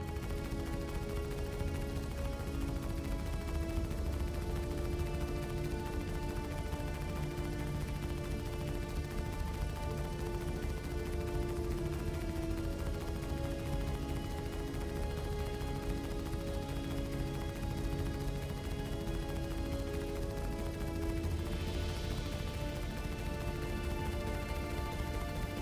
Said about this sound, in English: We'll be looking at the size 3 CF series laser repeaters